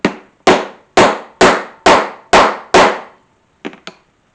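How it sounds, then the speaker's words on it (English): A 1/8 inch hole punch is hammered through thin scrap leather: seven sharp, evenly spaced strikes ring out loud and close, then a pause and two lighter, quicker taps. "It's a 1/8 inch punch, and I'm going to put a hole right in the center"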